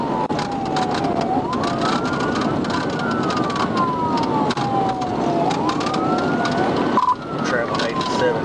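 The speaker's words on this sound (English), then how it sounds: "Williams activated his lights, then his sirens" A police cruiser's siren during a high-speed pursuit, wailing up and down in repeated sweeps over road and engine noise, with a voice speaking on top.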